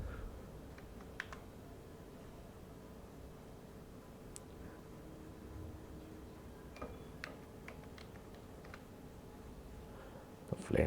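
Typing text on a computer keyboard: faint, scattered key clicks, some single and some in small clusters, over a steady low hum in a quiet room.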